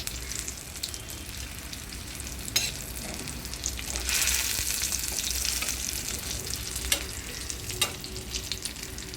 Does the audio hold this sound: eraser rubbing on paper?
no